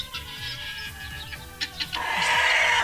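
Several hens cluck close by in a rapid, repeating rhythm, and the birds get louder and more agitated toward the end.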